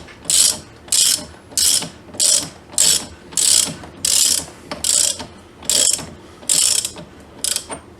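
Ratchet wrench snugging the fork clamp bolts on a 2023 Honda Grom while installing Racing Bros fork springs, a close, loud series of about twelve rapid clicking bursts with short pauses between strokes.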